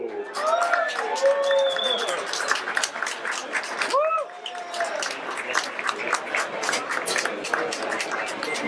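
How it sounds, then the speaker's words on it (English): Audience applause and cheering at a fundraiser event welcoming athlete Tim Tebow, steady dense clapping from a crowd throughout with voices and whoops rising over it. "please, a big round of applause for Mr."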